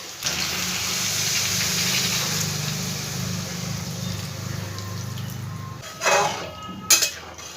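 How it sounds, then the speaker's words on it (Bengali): Water poured steadily into a pot of mixed vegetable curry on a gas stove in a Bengali kitchen, a continuous close splashing rush that stops abruptly, followed by a couple of brief clinks of a utensil against the pot. "এবার পরিমাণ মতন আমি এর মধ্যে জল দিয়ে দেবো।"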